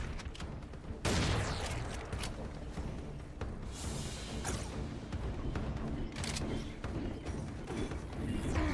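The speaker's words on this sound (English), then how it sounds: "Probably highly inefficient using rocket launcher on Ganars, but it's fun." A rocket launcher fires at Gnaars in Serious Sam. Heavy thumping blasts arrive in an irregular series, with a big hit early and further booms and gunfire-like bursts after it, all loud and close.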